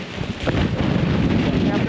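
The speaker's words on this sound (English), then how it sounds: "freezing out here with gusts of 45 miles an hour" Strong, freezing wind gusting to 45 miles per hour buffets the microphone in a constant low rumble, with a voice briefly audible beneath the roar.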